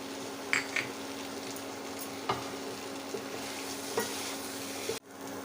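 Potatoes frying in a pan with salt added, giving a steady low sizzle broken by a few sharp utensil clinks and scrapes, with one thud near the end and no talking.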